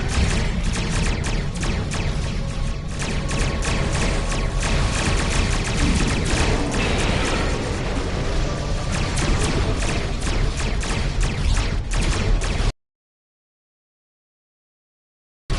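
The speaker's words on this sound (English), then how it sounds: "All ships, fire to disable!" Starship weapons fire during a space battle in Star Trek Online, a dense continuous barrage of rapid blasts and booms, loud and sustained for about thirteen seconds before cutting to silence.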